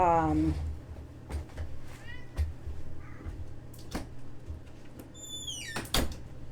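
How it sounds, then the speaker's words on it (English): A house cat meows in short repeated cries mixed with a door being opened to let it out, close by over a steady low hum, with a final louder rising yowl near the end. "had to let my cat out or else he would have sat there and cried"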